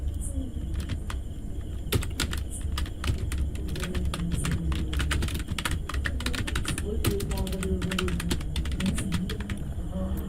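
Computer keyboard typing while entering text into a Google Sheets script, steady clusters of close key clicks over low background hum, with some faint talk underneath.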